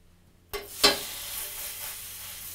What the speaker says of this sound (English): You can hear them sizzle.